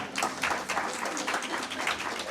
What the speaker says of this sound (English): that's worthy of an applause